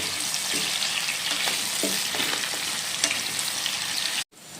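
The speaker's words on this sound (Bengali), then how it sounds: "এখন আলুগুলোকে ভালো করে আমি ভেজে নেব।" Potatoes fry in hot oil for a vegetarian aloo dum, a loud continuous close sizzle with scattered stirring clatters that cuts off abruptly near the end.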